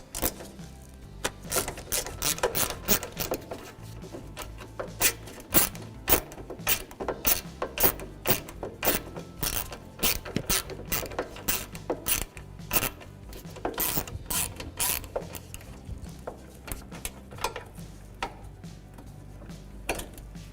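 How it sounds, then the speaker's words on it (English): Ratchet with a 10mm socket backing out bracket mounting screws, giving dense, rapid clicking bursts across the whole stretch with rubbing metal sounds between, close and fairly loud, no talking. "there's 2 mounting screws in here. We'll have to release those also. 10mm socket."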